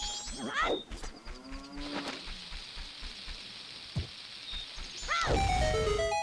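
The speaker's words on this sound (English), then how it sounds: "Where am I hearing a cow though?" Cow moos ring out in Majora's Mask, a series of drawn-out lowing calls mixed with bright chiming game sound effects and tones, with a louder burst of noise near the end.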